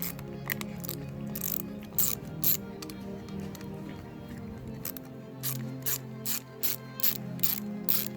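Ratchet wrench clicking in repeated bursts while backing out 13mm bolts from a car starter motor, close and loud with short pauses between strokes.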